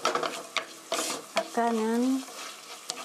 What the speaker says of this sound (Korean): 어니언, 갈릭 넣으시고 볶아주세요